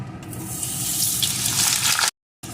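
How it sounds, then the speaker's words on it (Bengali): Potato pieces hitting hot mustard oil in a wok give a loud, close, rushing sizzle that holds steady for about two seconds, cuts to brief silence, then resumes. "এখন আমি কয়েকটা আলুর টুকরোকে প্রথমে ভেজে নেব"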